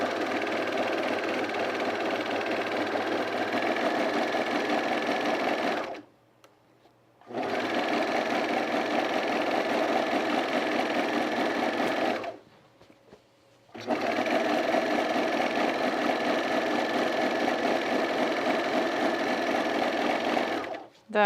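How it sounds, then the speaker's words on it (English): An overlocker sewing machine runs continuously along a fabric edge, a loud fast mechanical whir in three long bursts separated by brief stops. "I'm gonna overlock this edge here."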